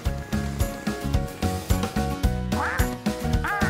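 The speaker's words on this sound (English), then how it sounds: "That's Dylan the duck." A cartoon duck quacks repeatedly in a quick, regular rhythm over a bouncy musical backing from a children's construction-vehicle animation, loud and close, with no talking.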